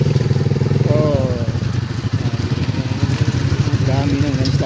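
Motorcycle engine running steadily while riding along a landslide-damaged rural road in Barangay Malublub, Leon, Iloilo, with a continuous mid-pitched drone and clatter under voices talking throughout.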